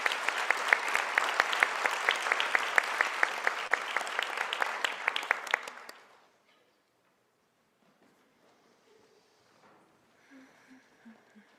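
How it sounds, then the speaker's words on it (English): Audience applause at a medical school graduate studies welcome ceremony, a steady mass of clapping for about six seconds that then cuts off, leaving near silence with faint room sounds. "Let's give this group of students a big round of applause."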